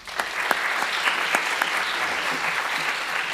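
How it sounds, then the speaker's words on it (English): Seminar audience gives steady, moderately loud applause welcoming Chile's Minister of Environment as guest speaker, a sustained wash of clapping with a few sharper individual claps. "Please warmly give him applause"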